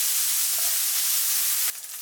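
Grated ginger sizzles and hisses in a hot pan while being stirred for yakisoba, a steady bright frying crackle with a brief scrape of the utensil near the end.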